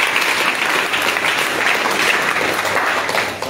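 Loud, continuous applause from a church congregation at a prophecy service, a dense wash of many hands clapping that holds steady throughout and dips slightly at the very end.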